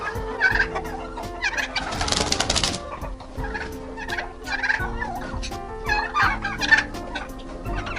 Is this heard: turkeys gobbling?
yes